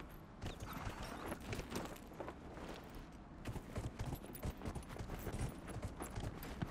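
A horse's hooves in Dragon Age Inquisition, set in the Hinterlands, clop in a steady running rhythm over a low ambient game background, fairly quiet and continuous, with no talking.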